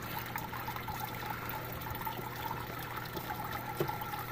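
Water from a gold-panning setup indoors flows steadily over wet concentrates in a pan, a constant low trickling wash with a faint hum beneath and no voices.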